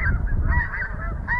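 Snow geese honk repeatedly in flight over water on a migration day, their clamor steady and fairly close above a low rumble of breeze.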